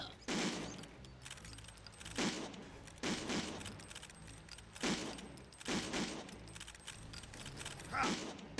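Rifle shots in the video game Another War, a series of sharp, separate blasts spaced a second or two apart, each followed by a short decay, over quiet in-game ambience.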